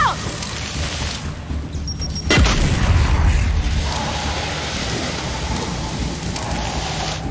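A frag grenade blows up in the Gears 5 video game as a sudden loud boom about two seconds in, followed by a long rumbling, crackling tail over a background of game ambience.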